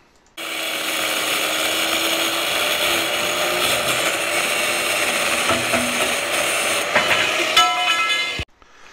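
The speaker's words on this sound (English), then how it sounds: "One cut, no waste, two pieces from one, using a simple grinder and a vise to hold the pipe." A grinder cuts through a 10-foot metal conduit pipe clamped in a vise, giving a steady, loud whining grind that runs for about eight seconds and then stops abruptly, with no talking.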